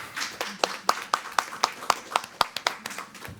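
Audience clapping at a school board meeting, a sparse round of sharp, distinct hand claps at a fairly steady rhythm, moderately close in a room with soft murmuring behind.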